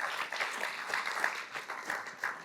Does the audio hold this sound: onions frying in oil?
no